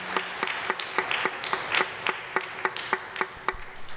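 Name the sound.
congregation applause in church service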